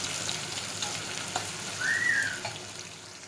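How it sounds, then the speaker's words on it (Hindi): Onions fry toward golden brown for dhaba-style fry dal, giving a soft, even sizzle close by, with a brief faint whistle-like tone partway through and no speech. "प्याज को गोल्डन ब्राउन करूँगी, उसके बाद इसे दाल में डाल दूँगी"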